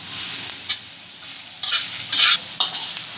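Onion is fried in a little oil until reddish for a Khandeshi urad dal curry, a soft steady sizzle broken by a few louder scraping stirs of the pan.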